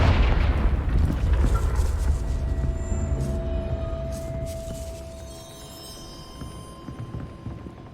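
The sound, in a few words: Confringo explosion spell cast in Hogwarts Legacy video game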